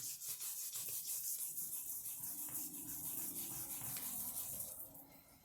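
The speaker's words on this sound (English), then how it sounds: "we're just doing some light sanding here" Fine-grit wet sanding on scratched vintage toy plastic, a steady close rubbing scrape with a brief rhythmic pattern, continuing without pause and easing off near the end; no voices.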